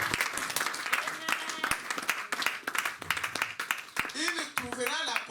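A church congregation bursts into sustained clapping and applause, dense and steady, with voices and shouts rising over it toward the end.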